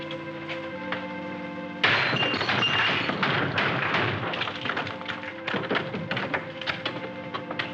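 A man forcing a front door gives a sudden loud impact, then a rapid series of heavy thumps and bangs that continue irregularly, close and solid, with no speech.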